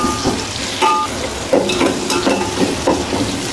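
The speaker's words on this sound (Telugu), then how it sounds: "ఉల్లిపాయ బాగా ఎర్రగా ఫ్రై అవ్వాలి." Onions frying in hot oil with masala for Hyderabadi bagara rice, a loud steady sizzle close by with periodic scraping stirs, no talking.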